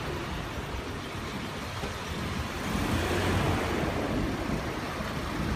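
Steady wind rushing across the microphone, a broad noisy roar that swells slightly midway, with no voices.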